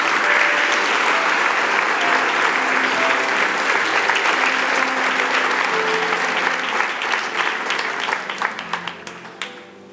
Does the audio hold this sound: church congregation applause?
yes